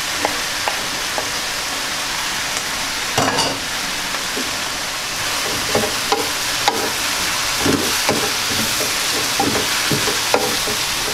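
Onion sizzling in hot oil in a pan, a steady broadband hiss broken by scattered crackles and a few soft stirring knocks, close and moderately loud with no talk.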